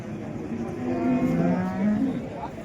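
At a busy cattle market, a large cow gives a drawn-out moo that rises and falls, fairly close, over a low murmur of background crowd noise.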